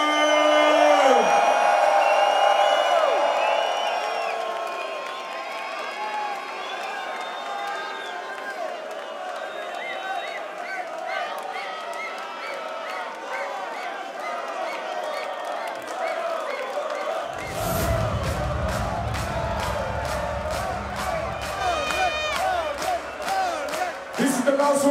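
Crowd at Tomorrowland Winter 2019 roars and cheers, loud and sustained with whoops, over ongoing music; near the end a pulsing beat kicks in with a deep bass rhythm beneath the crowd.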